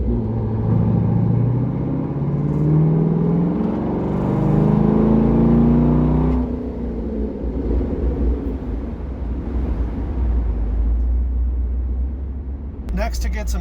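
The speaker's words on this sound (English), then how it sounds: "I'll put it into third gear at a pretty low RPM and go to wide open throttle for a few seconds" A C6 Corvette with an LS2 engine pulls at wide open throttle in third gear from low RPM, a loud, deep, rising engine roar heard from inside the car that steadies after the initial climb.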